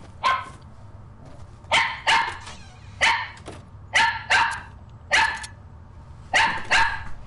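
A dog barks loudly and close by, about ten sharp barks that often come in quick pairs, with short quiet gaps between each burst.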